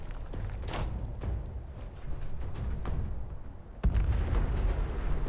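A powerful grenade blast in Fallout 76 against a legendary warlord, a heavy rumbling boom that jumps in loudness near the end over a dense, continuous roar of game noise.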